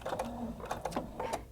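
A Husqvarna Viking Designer Brilliance 80 sewing machine stitches a fabric hem with the needle-down setting, making a close, steady whir with quick rhythmic pulses of the needle.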